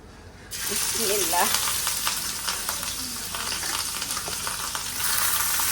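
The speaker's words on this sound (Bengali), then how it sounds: "চলো মাছগুলো দিয়ে দিই মাছগুলোও না ঢাকা দিয়ে দিয়ে ভাজবো" Fish frying in a covered pan at home, a steady broadband sizzle that starts abruptly and keeps going close and loud, with a brief voice in the background near the start.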